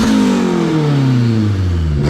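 A turbocharged Honda Civic engine revs loud and close, its pitch climbing then sliding back down over about two seconds with no talking.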